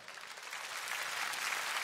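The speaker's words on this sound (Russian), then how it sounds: "Под ваши аплодисменты мы приветствуем в зале Наталью Забелину" Dense applause from a concert audience, a steady patter of many hands clapping that swells slightly, heard from some distance with no talking.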